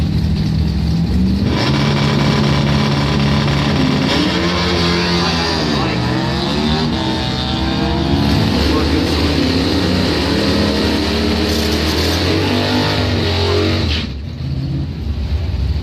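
Doorslammer drag race cars, a Harley and a Maverick, idle and rev loudly while staging at a drag strip, engine pitch rising and falling in surges before the roar drops away near the end.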